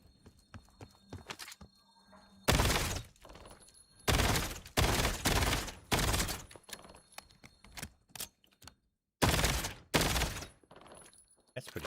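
Rapid bursts of weapon fire in a video game, several sharp, loud volleys with short silent gaps between them, with some quiet background voices.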